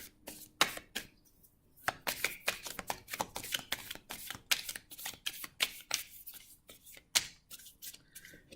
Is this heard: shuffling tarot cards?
yes